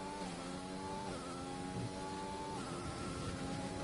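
F1 2020 race cars on medium compound tyres driving through the final corners at Britain, a steady loud engine whine with harmonic tones that rise and fall as the cars shift gears and take the bends.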